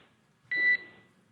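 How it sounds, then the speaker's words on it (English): A single short electronic alarm beep sounds inside a SpaceX Dragon capsule, a clean steady tone lasting about a quarter second against quiet background. "There is a chance that we get a lot of alarms."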